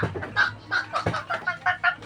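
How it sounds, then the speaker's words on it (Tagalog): Chickens cluck repeatedly in quick, uneven bursts close by, a lively run of short calls with no talking. "Unay manok mga guys."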